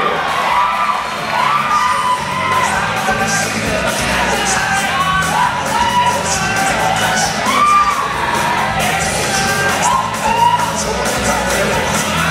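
A lively audience at a yo-yo showcase during national championships cheers, whoops and yells continuously, with children's shouts and excited voices rising in waves over a dense crowd background.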